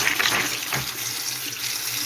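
Microgreen seeds are rinsed under a running kitchen tap, producing a steady close rush of water over a strainer, loud and continuous throughout with no voices.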